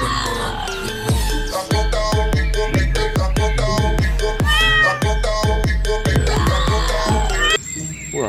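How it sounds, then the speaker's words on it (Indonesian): Tom cat meowing in a dinosaur toy video game, loud cartoonish meows set over busy, rhythmic game music with repeated plucked notes that runs steadily and cuts off near the end. "Widih, di sini ada kucing Tom"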